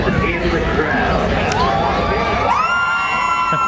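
Women in the crowd at a nighttime diesel truck pull cheer and shriek loudly, with high-pitched whoops and rising yells over steady crowd noise and engine rumble.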